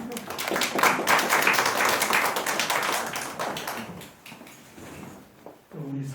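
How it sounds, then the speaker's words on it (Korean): A church congregation claps in a dense, steady round of applause that gradually thins out, and a voice comes in at the end. "우리 격려의 박수 보내주십시오"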